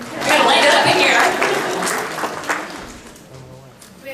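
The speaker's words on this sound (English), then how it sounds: "Somebody clap or something." Brief burst of audience applause at a conference welcome session, a dense crowd clapping that swells quickly and then fades while voices murmur and chatter underneath.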